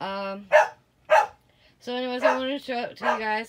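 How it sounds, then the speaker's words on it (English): A dog barks in short, sharp bursts. Each bark is separated by pauses and interrupted by someone talking nearby. "Sorry about the dog barking."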